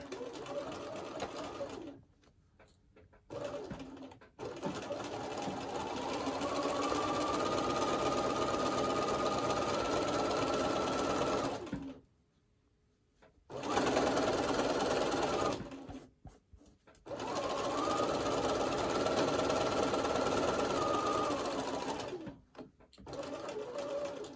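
A sewing machine stitches a seam on a scrappy quilt of Tilda fabrics, running in long, loud, steady whirring bursts with short pauses between them.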